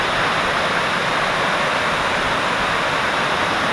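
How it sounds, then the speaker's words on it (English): Sherman Falls waterfall roaring steadily and loudly, a dense, unbroken rush of falling water with no voices. "This is the Sherman Falls."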